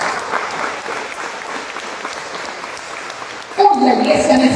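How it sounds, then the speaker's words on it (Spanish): A church congregation breaks into applause during a Spanish-language sermon, a sudden loud burst of clapping after a preacher's voice. "Denle ese aplauso, Señor."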